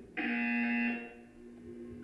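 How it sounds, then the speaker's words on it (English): A single loud electronic buzzer from the Portal 2 video game blares for nearly a second, a steady harsh tone that cuts off and leaves a low hum behind. "You will hear a buzzer. When you hear the buzzer, look up at the ceiling."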